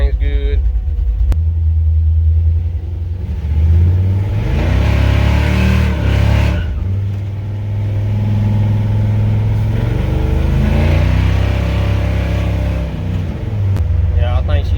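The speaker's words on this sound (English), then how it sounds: "We're just gonna cruise down the road and back" A car with freshly swapped spark plugs cruises down a road at dusk, its steady engine rumble and low drone rising and falling with gentle acceleration, while people talk over it.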